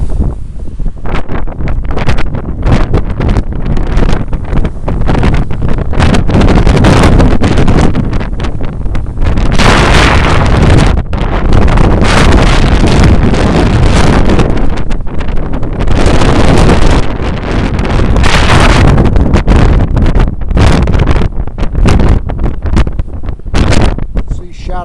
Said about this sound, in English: I don't know if you can hear me above the wind